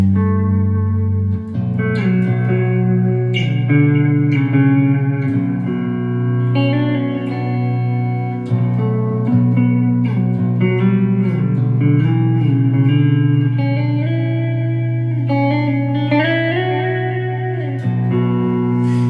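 A sustained, heavily processed electric guitar in drop B tuning plays slow, dark, low chords, notes smeared by long echoing delay repeats and lush reverb, loud and alone.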